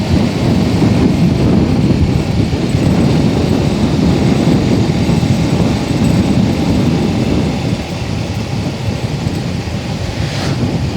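A train rolls along a railway crossing beneath a road bridge in Lampung, Indonesia, heard from a motorbike above as a loud, continuous low rumble mixed with wind roar for the whole stretch.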